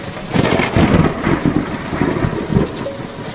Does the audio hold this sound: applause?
no